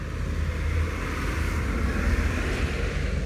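Cars on a nearby road produce a steady, continuous low rumble of passing traffic, holding an even level throughout with no voices over it.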